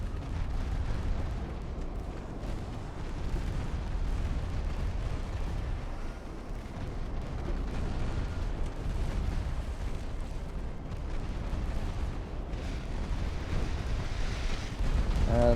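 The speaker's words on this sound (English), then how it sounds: "Oh, torpedo away." A torpedo launches from a Trent-class warship in the naval game Ultimate Admiral: Dreadnoughts, a deep, rumbling low-end roar that stays dense and sustained, like distant artillery blended with churning water, with no voices over it.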